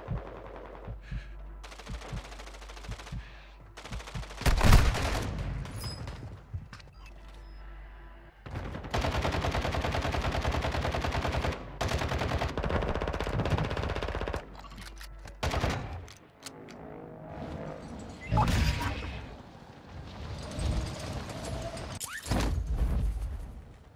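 Repeated automatic gunfire fills a Call of Duty: Modern Warfare II firefight, with long loud bursts of rapid shots, a heavier blast, breaks between volleys and faint game sounds in the gaps.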